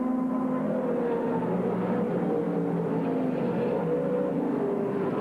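A Chevy Monza sports sedan racing at Mount Panorama, Bathurst, in a 1991 sports sedan race, its engine a loud, steady roaring drone that holds throughout with slight shifts in pitch and no speech.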